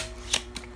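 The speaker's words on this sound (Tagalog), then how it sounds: "Kaya dapat balasahin natin." A short burst of card shuffling, two quick riffling flutters close by against a quiet room.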